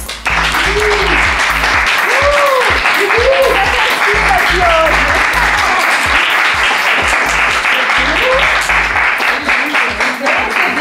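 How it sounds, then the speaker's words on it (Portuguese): A studio audience claps steadily and loudly in welcome of Brazilian actress Gabriele Lopes, with scattered cheers and whoops rising over the continuous clapping throughout. "Eu quero pedir uma salva de palmas para Gabriele Lopes"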